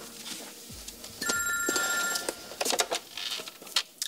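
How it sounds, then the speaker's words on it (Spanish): A telephone in a home rings with a bright, warbling electronic tone for about a second, followed by a few close clicks and knocks as it is picked up. "El teléfono."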